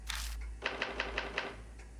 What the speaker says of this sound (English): As I speak, the typewriter begins to make sounds on its own.